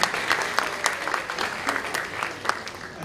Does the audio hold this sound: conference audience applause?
yes